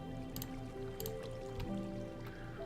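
Water from a bucket flows and drips in a Minecraft world, soft repeated drips and trickles over a low steady background, fairly faint with no voices.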